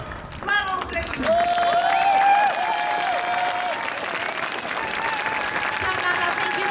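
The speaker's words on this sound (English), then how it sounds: "this applause is for you" Audience applause and cheering after a live performance of the Ukrainian national anthem, a loud sustained burst of clapping with whoops, mixed under a voice and tonal sounds over the top.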